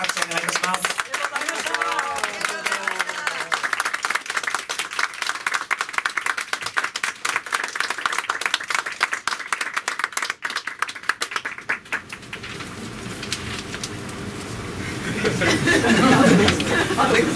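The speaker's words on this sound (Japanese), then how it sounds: "2日間にわたってPA など、ご協力いただいた浜松スポーツの皆さんに盛大に、拍手お願いします" Live-show audience at Hamamatsu FORCE claps for the PA staff, a loud dense applause with some chatter and laughter, easing then swelling again near the end.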